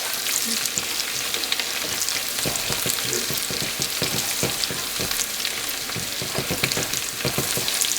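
Ginger and garlic paste frying for a red fish curry, a steady dense crackling sizzle with intermittent louder pops and stirring scrapes throughout, close and continuous with no talking.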